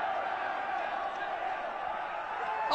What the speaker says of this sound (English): And what a roar from the crowd.